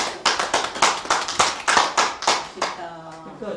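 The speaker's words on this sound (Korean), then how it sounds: "박수 한번 치주세요" A church congregation claps in a quick burst of about a dozen distinct, fairly close hand claps that taper off, followed by a moment of quiet.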